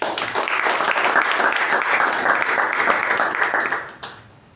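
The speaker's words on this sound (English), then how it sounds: "So let's give a huge round of applause." Members at a club meeting give a round of applause, a dense burst of clapping that holds steady for about four seconds and then fades quickly to quiet.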